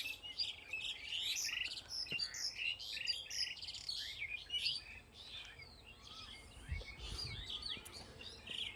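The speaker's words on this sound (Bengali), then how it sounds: "প্রচুর পাখির ডাক শোনা যাচ্ছে।" Many birds chirp and call in a countryside setting near a border, a dense, steady chorus of overlapping tweets and whistles at moderate distance, with low rumbling thuds in the background.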